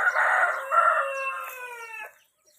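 A single rooster crows nearby, a long drawn-out call that trails off into quiet.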